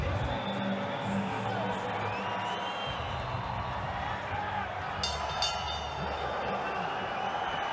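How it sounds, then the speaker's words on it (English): Arena crowd at a boxing title fight between George Kambosos Jr and Devin Haney, a dense roar of voices swelling steadily throughout, loud and sustained with a commentator talking over it. "The crowd raise their voices."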